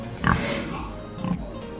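Large White and Landrace pigs on a farm grunt and oink in two short close bursts, loud and alone.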